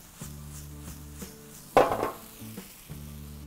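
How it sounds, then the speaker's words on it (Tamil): Vegetable Hakka noodles with spring onion tossed in a hot pan, heard as one loud clattering, sizzling toss in the middle with lighter pan knocks around it, over a steady tonal hum and with no talking. "ஃபைனலாக ஒரு வாட்டி பேன்லேருந்து எடுக்கிறதுக்கு முன்னாடி இது மாதிரி டாஸ் பண்ணிவிடுங்க"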